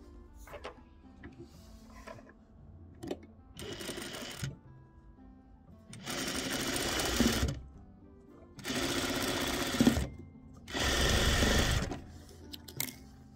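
A sewing machine stitches quilt pieces in several bursts of steady whirring, each a second or two long, with quieter handling clicks and pauses in between. The machine sounds close and moderately loud.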